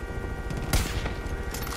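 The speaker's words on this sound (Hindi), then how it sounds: "गोलियां चला रहा है ये" Gunfire in the video game Far Cry 5, a few sharp shots with one loud close crack among fainter bursts over a busy background.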